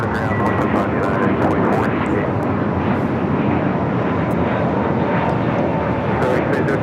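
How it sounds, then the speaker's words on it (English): Spirit Airlines Airbus A321neo taking off from LAX bound for Detroit, a steady loud jet roar sustained throughout, with a few faint clicks and brief radio-like noises layered over it. "That is Spirit Airlines 302 taking off to Detroit on the A321neo."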